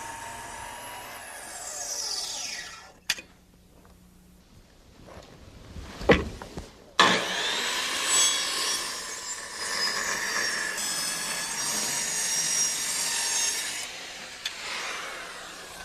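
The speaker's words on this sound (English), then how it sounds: "Now this is a finish cut, so I'm using a sharp blade in my saw." A circular saw with a sharp blade makes a finish cut across wooden deck boards, a loud sustained whine of blade through wood after a brief start-up, running steadily for several seconds before winding down.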